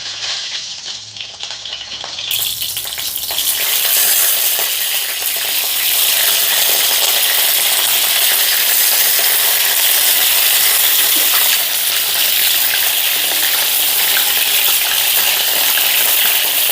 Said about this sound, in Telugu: ఆయిల్ వేడైందండి ఇప్పుడు వంకాయల్ని ఈ ఆయిల్లో వేస్తాను